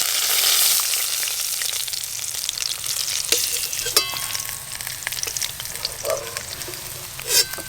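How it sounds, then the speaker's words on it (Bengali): Pieces of catfish fry in oil, crackling and hissing steadily up close, with a few sharp pops and clinks of a utensil against the pan. "মাছ ভাজতে মাছের এত তেল বেরিয়েছে"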